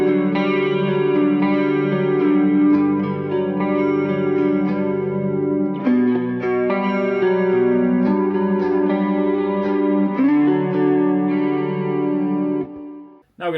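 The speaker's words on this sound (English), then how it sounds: "I'm going to start on the neck pickup, clean tone with a chorus pedal on." A clean electric guitar on the neck pickup, a Gibson Vivian Campbell signature model, plays chords and melodic lines with a shimmering chorus pedal effect, ringing out continuously and upfront with no talking.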